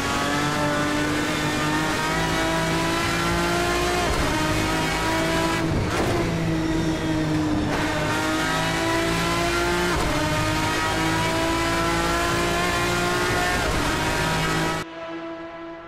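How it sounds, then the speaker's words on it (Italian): Modded car engine in the racing game Assetto Corsa, roaring loudly and continuously with rising revs, with quick dips at gear changes, and no talking over it. "Io adesso sto un po' in silenzio, vi faccio godere il sound"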